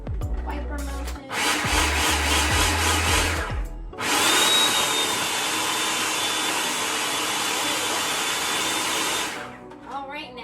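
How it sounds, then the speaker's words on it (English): A blender or food processor whirs loudly while chopping chimichurri sauce ingredients, running in two long, steady bursts separated by a short pause, then spinning down. "And we're gonna chop this up as well."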